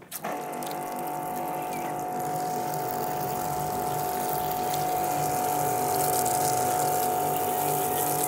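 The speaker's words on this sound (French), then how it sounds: "Tu enlèves ta buse et tu fais couler de l'eau tout simplement, comme ça." Water flows from a hose with the nozzle removed, poured from the top of a car at an angle while it is being cleaned. The rushing flow is steady and close, starting abruptly and building slightly louder over several seconds.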